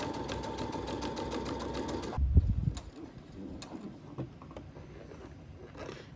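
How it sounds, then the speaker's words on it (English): Sewing machine running a straight stitch along a dart on a corset top, with steady rapid needle chatter for about two seconds, then stopping, followed by light fabric handling and small clicks. "And now we can go ahead and sew the dart. I'm just gonna be using a straight stitch for this"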